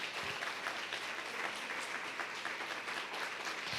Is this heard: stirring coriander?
no